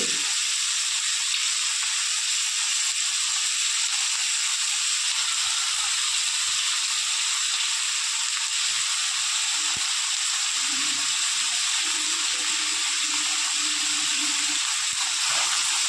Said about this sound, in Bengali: লবণ হলুদ দিয়ে ভালো করে আলুটা একটু ভেজে নেব।